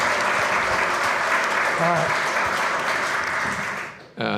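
Sustained audience applause fills a community talk at a Bexley Day celebration, loud and steady for about four seconds before tapering off abruptly at the end.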